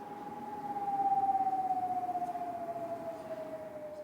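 A single wailing air raid siren in wartime Ukraine holds a steady, slowly drifting tone for the whole stretch, loud and sustained, echoing over a town.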